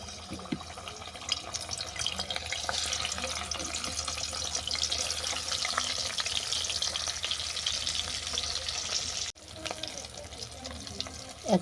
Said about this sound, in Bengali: তেল গরম হয়ে গেছে, মাছটাকে আমি উল্টে পাল্টে বাদামি করে ভেজে নেব।